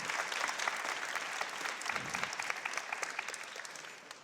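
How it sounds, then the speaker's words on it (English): Conference audience giving a panel a round of applause, dense clapping from a roomful of people that stays strong for a few seconds before tapering at the end. "should we give our panel a round of applause?"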